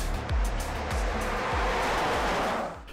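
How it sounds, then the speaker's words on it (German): A Nikola Tre electric truck speeds up quickly, heard as a loud, broad rush of tire and wind noise with low surges underneath. The sound holds steady close by, then fades near the end. "Fast wie ein Elektro-Pkw kommt der Nicola Tray unglaublich schnell auf Touren."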